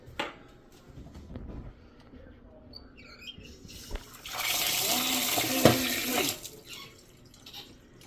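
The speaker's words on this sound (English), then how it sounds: "angle the water into the sink" Water bursts from a Delta two-handle kitchen faucet's supply line into a sink, a loud rushing spray for about two seconds after quieter handling clatter, with a voice speaking briefly nearby.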